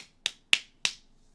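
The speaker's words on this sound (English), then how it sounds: "Yes, that is the sound of me slapping my thighs." Three crisp, sharp slaps of hands on thighs land about a quarter second apart, close and dry in a quiet room.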